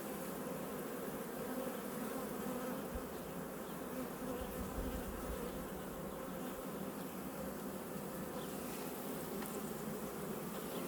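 Dense, steady drone of a honey bee colony buzzing throughout while a hive is worked during a beekeeping inspection to find the queen for an artificial swarm, loud and continuous with no talk.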